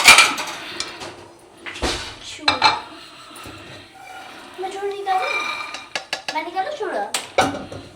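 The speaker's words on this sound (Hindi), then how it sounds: "अब चलिए मैं चूड़ा भूनती हूँ।" Flattened rice (chivda) is roasted in a pan in a small kitchen. Scraping and clinking of a spatula against the pan comes in irregular bursts, with someone talking over it.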